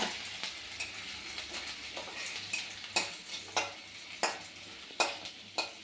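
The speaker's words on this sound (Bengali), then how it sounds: "আদাটাকে হালকাভাবে ভাজবো।" Small chopped pieces of ginger fry lightly in a pan for a doi paneer dish, with a soft, steady sizzle broken by regular spoon or spatula taps and scrapes as it is stirred, close by and with no talking.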